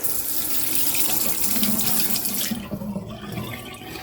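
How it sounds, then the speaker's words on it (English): Water runs steadily from a bathroom tap while a face is rinsed, a close, full gush that cuts off abruptly near the end, leaving a quieter trickle and faint splashing. "rinse this face off and we'll see what we got going with here"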